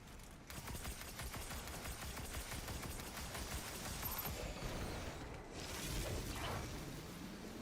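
Video game gunfire in the ghost-themed shooter: sustained rapid automatic bursts rattling almost without pause, mid-level and dense, with a brief whoosh near the end.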